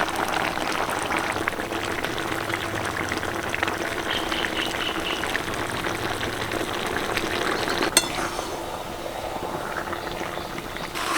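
Pieces of chalta (elephant apple) simmer in a sugar and jaggery syrup, a steady close bubbling boil that holds evenly throughout with a single brief tap near the end.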